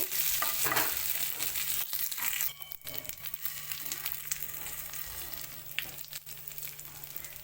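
Brinjal curry masala being stirred and fried in a pan, North Karnataka style, with a steady close-up sizzle of hot oil and scraping, clattering stirring strokes throughout and no voice.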